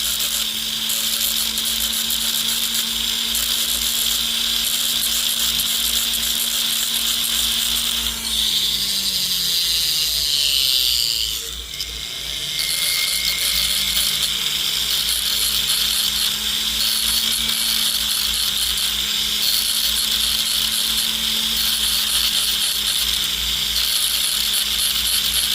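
A rotary power tool fitted with a silicone polishing wheel runs continuously against a metal ring being resized, a steady high whine that holds on throughout, pausing briefly midway before resuming at the same pitch.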